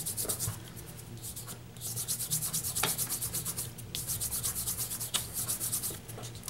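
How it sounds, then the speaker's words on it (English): Rose gold embossing powder residue being wiped off a surface by hand, a steady close rubbing and scrubbing sound in quick repeated strokes, loud and continuous with no talking. "let me go ahead and wipe off the powder residue here."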